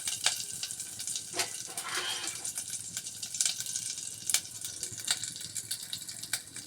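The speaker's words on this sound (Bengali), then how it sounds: "পেস্তা বাদামটা একটু বাজে নেব।" Pistachios fry in hot ghee in a pan for nawabi semai, a soft, crackling sizzle with scattered sharp pops and spits.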